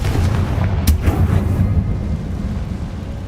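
A loud, booming fire-spell blast from the Hogwarts Legacy video game, with a sharp crack at the start and a heavy rumbling roar that slowly fades.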